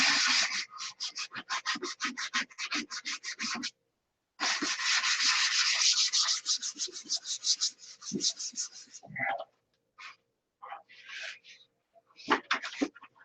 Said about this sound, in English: So that wasn't too bad, sanding out the primer on that.